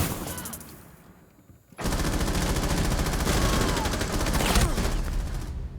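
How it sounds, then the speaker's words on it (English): Gunfire in Rainbow Six Siege, a quiet stretch that gives way to sustained rapid automatic shots, loud and continuous for several seconds. "Will the Jaeger be able to frag out the Zofia? As Ash and the Zofia are both pushing him."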